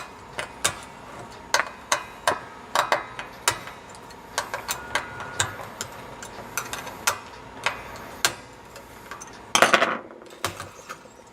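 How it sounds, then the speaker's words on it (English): A 3mm wrench loosens the bolts on a floating tremolo to take off guitar strings, heard as a series of sharp metallic clicks and taps at an irregular pace, close up, with one brief rattling burst near the end. "with my 3mm wrench here, just unlock the bolts and take the strings off"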